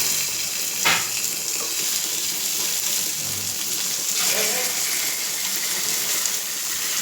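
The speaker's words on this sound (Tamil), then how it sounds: "அதனால தான் இந்த கல்லில் மீன் பொரிக்கிறேன்" Fish fries in a little oil on a hot stone pan with a steady, close hiss and sizzle. Occasional soft clicks and bubbling spurts rise over the constant crackle.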